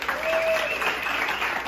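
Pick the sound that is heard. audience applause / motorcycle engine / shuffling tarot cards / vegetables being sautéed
audience applause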